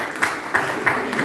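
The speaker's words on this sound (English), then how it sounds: "give yourselves a round of applause" Audience applause fills a town hall candidates forum, a dense, steady patter of many hands clapping across a full room, running through the whole short stretch with small surges in intensity.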